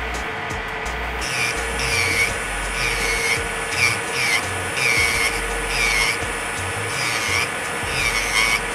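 An electric nail drill running at 7,000 RPM with a 5-in-1 carbide bit files acrylic nails, making a close, steady whirring hum with rhythmic rasping strokes repeating about once a second, with no talk.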